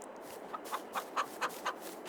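Chickens of mixed black, white and red colouring clucking in a backyard chicken pen, a series of six short, evenly spaced clucks close by over a quiet background.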